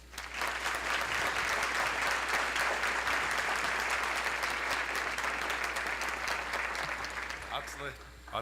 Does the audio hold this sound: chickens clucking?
no